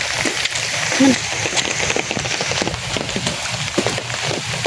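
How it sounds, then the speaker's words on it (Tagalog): Steady rain falls outdoors in the rainy season, a dense continuous patter on surfaces, with people talking over it now and then. "Maulan po ngayon."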